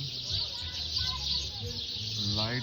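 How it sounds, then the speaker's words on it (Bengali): House sparrows chirp at a hotel, their bright, overlapping calls forming a constant high twittering layer while someone speaks close by over them. "এই হোটেলের এই চড়ুই পাখির সাউন্ড শোনার জন্য আমি অধীর আগ্রহী ছিলাম।"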